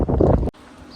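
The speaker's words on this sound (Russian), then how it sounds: "Ветер какой, посмотрите" Strong wind at a beach in Odesa, palm trees shaking: a loud, rough rumble buffets close for about half a second, then cuts off sharply to a faint airy background.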